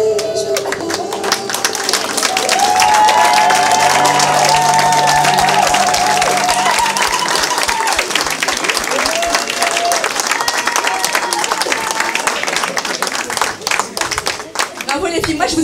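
An audience applauds after a dance at a Christmas show, a sustained dense patter of clapping with some cheering and voices, loud and close, with music fading beneath at the start.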